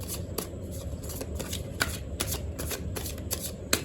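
Tarot cards shuffled by hand, a close, rapid series of crisp riffling bursts repeating about a dozen times over faint background noise, no talking.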